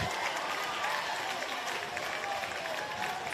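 Crowd applause rises at a high school baseball final between Hilo and Waiakea after a big pitch, a steady wash of clapping and cheering heard at a distance.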